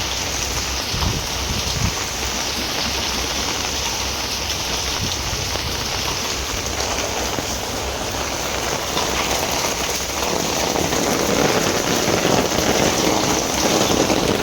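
Heavy monsoon rain pours steadily over a flooded village as a dense, constant hiss of drops on water and surfaces, loud and unbroken throughout, with no voices.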